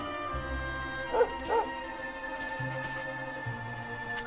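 A dog in Dragon Quest XI gives two short, close barks in quick succession over a quiet game music backdrop, with no talking.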